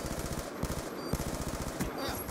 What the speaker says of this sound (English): Wow, I shot that guy many times.